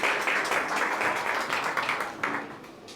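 An audience at a community health event in Toronto claps together, a dense, bright patter of applause that fades slightly toward the end, with no voices over it.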